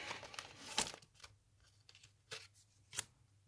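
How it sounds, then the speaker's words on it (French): A piece of paper is crumpled and handled during a fabric gluing craft, producing a few quiet, scattered crinkling bursts separated by near silence. "Un bout de papier."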